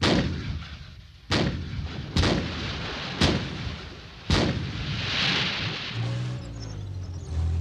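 British armoured engineer vehicle (AVRE) firing at a target: four heavy booming shots roughly a second apart, each with a long rumbling decay, followed by a low mechanical drone at the end.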